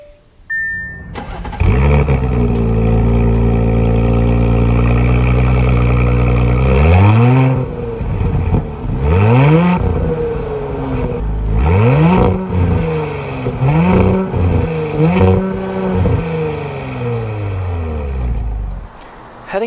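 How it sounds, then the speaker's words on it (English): A 2020 Audi SQ5 engine cranks and catches on a cold start, settles into a high, steady idle, then is revved several times in sharp swelling bursts before dropping back, loud and close. "I wanted to show you guys what a cold start sounds like and also what revving the engine sounds like"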